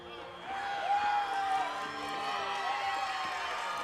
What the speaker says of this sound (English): Some excitement in the crowd over that one.